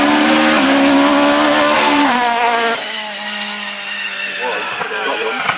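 A Ford Escort rally car in Rothmans livery, car 63, passes at speed on a crisp morning rally run in East Yorkshire. Its engine roars loudly close by, then fades as it moves away, under a commentator's ongoing talk.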